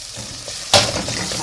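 Colored bell peppers hit a pan with softened onion and start frying, a sudden loud sizzle that swells and then settles into a steady crackle.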